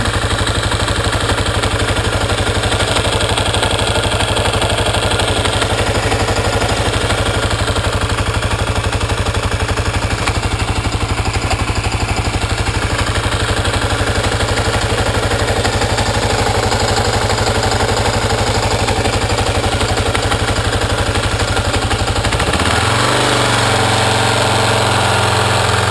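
Kawasaki KLR motorcycle engine idling with a ticking fault, a steady close rhythmic chugging with fine clatter running evenly for most of the time before the tone shifts near the end.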